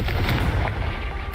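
A Confringo fire spell blasts off in Hogwarts Legacy, a burst of heavy, booming, gunfire-like explosive thumps that hit loudly and then die away, with a final sharp crack at the end.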